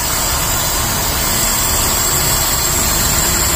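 A car engine idles loudly nearby with the air conditioning on, a constant whirring rush of cooling fans over the steady hum, unbroken for the whole stretch.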